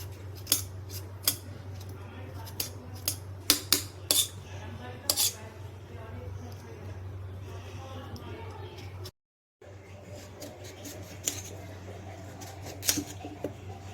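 Knife scraping and cutting on a pumpkin as its skin is peeled, a run of sharp, close clicks and scrapes over a steady low hum, broken by a brief gap.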